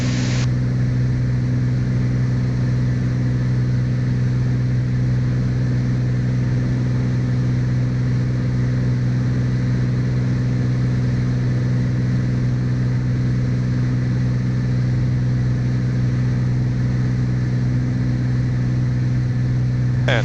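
Light aircraft piston engine at approach power, 22 inches manifold pressure and 2500 RPM, droning as a steady, loud, continuous hum with a strong low tone throughout, no voices.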